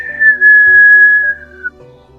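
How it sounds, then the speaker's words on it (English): A person whistles a single sustained, steady note lasting under two seconds, close and clear, with soft low background noise and no talking. "Whistle."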